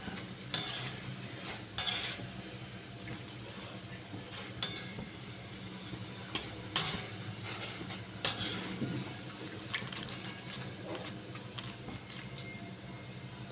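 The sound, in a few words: boondi frying in ghee for motichoor laddu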